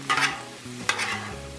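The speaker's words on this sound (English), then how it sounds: "Jambalaya on the griddle." Cajun jambalaya stirred and frying on a Blackstone griddle: a close spatula scrape and rustle, then a second stir, over a steady low sizzle, with no voices.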